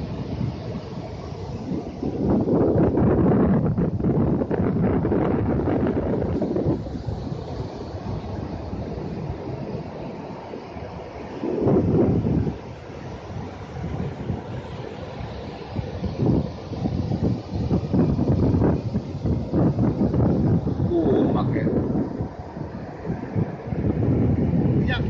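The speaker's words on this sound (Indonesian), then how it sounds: "Ombaknya" Ocean waves roll in on Bayah beach in South Banten, a broad steady wash of surf with swelling crashes and wind rumble in the microphone, heard close and fairly loud.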